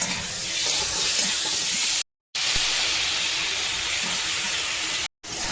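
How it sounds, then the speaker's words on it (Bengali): Tomatoes hit a pan of frying spices with coriander, green chilli and pepper powder, giving a loud, steady sizzling hiss that cuts out twice for a moment before resuming. "খানিকটা কষার পর আমি টমেটো দিয়ে দিলাম"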